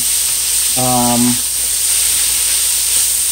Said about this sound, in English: I'm gonna add some of those in there right now, and quickly stir fry.